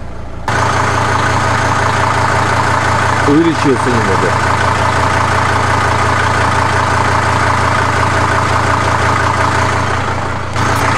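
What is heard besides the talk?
Mercedes-Benz W210 E290 diesel engine idling with knock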